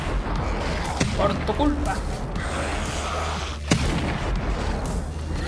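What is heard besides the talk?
rifle gunfire in video game 7 Days to Die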